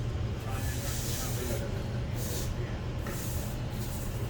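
Steady, close hiss of water spraying onto concrete, continuous throughout with slight surges in intensity.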